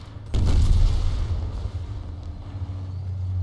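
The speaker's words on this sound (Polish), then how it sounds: "Czy to była pułapka? Taka wybuchająca?" An exploding trap goes off in the Battlefield Heroes video game, giving one loud, deep boom at the start that rumbles on and fades slowly under a steady low engine-like drone.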